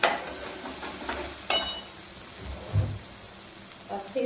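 Red chilli, turmeric, garam masala and coriander powder frying in a home kitchen pan, with a steady soft sizzle broken by a few louder scraping stirs and clinks of the spoon; no talking.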